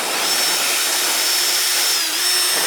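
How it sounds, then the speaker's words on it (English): A small rotary tool with a sanding disc whines steadily at a high pitch, grinding continuously and close by, with a slight dip in tone near the end. "maybe a little rotor tool or whatever, has a sanding disc on it"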